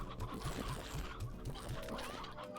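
Short, repeated chicken clucks in the video game Slime Rancher, a soft rhythmic series of low calls under a faint game background.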